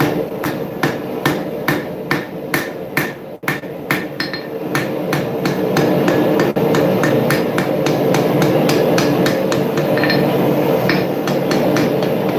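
Hammer tapping the jaws of riveted blacksmith tongs closed, heard as a long run of evenly spaced, sharp metallic taps, close and loud over a steady background roar.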